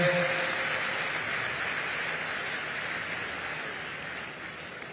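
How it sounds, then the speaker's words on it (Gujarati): Audience applause at a Jain Panch Kalyanak Pratishtha festival in Songadh: a steady wash of many hands clapping fills all five seconds at an even, moderate level, with no voices over it. "જોરદાર તાળીઓથી સમર્થન કરે"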